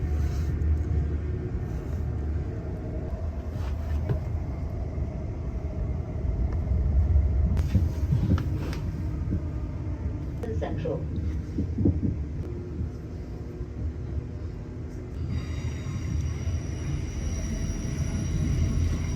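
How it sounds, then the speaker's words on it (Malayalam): A train passes in the opposite direction alongside a moving train near a small town, with a steady loud rumble and rattle throughout, brief clacks and a rising hiss in the later part, and no talking. "നമ്മുടെ നേരെ ഓപ്പോസിറ്റ് പോകുന്ന ട്രെയിൻ."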